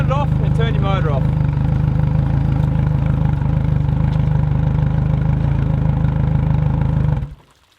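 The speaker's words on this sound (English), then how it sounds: "now it's time to use our salt mixer to run that engine flushing through the engine" An outboard boat motor idles steadily while engine-flushing mix from a salt mixer runs through it. The close, constant drone stays even for about seven seconds, then cuts off abruptly to near silence.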